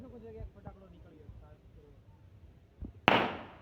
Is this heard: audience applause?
no